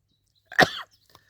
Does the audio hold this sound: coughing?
yes